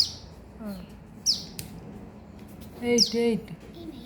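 A small bird gives a few short, high chirps and trills, spaced apart, with a soft voice speaking nearby over light background noise.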